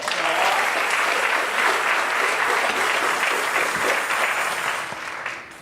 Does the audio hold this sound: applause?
yes